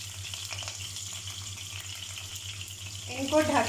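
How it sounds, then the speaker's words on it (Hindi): Four scored tomatoes frying in hot oil in a pan for chicken karahi, a steady, soft sizzle and hiss heard close up, with a few brief clatters near the end. "दूसरी साइड पे मेरा ऑयल गर्म हो चुका है। उसमें 4 टमाटर ऐड कर देंगे।"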